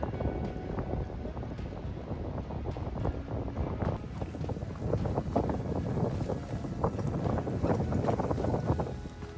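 Strong wind on a high mountain section of the Pacific Crest Trail in California buffets the microphone with a steady, roaring rumble and gusty swells throughout, no voices present.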